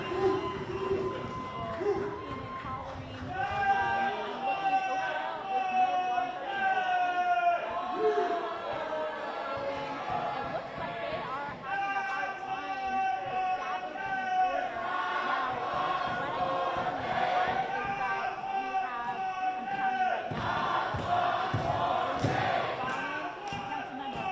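A crowd at a Los Angeles City Council meeting produces a continuous swell of many voices, murmuring and rising in chant-like bursts across the whole stretch with no single clear speaker.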